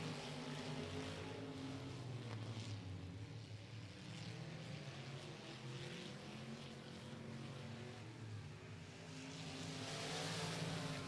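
Race cars at Golden Triangle Raceway Park roaring around the oval, a continuous distant engine drone that swells and fades slightly as the pack circles, fairly faint overall.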